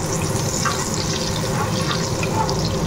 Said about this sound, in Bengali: এর মধ্যে জল দিয়ে দিলাম মশলাটা,